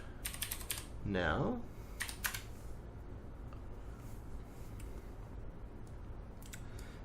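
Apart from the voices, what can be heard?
typing a password on a computer keyboard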